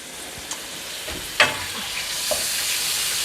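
Seasoned seafood for pasta sizzling in a hot pan with garlic, a steady close frying hiss broken by a few light clinks and scrapes as the pieces are stirred.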